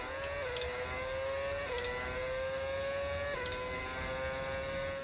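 Modded Benetton Formula 1 car in F1 25 with a V10 engine, a high, steady whine that climbs through the gears with three quick upshift drops, loud and continuous with no talking.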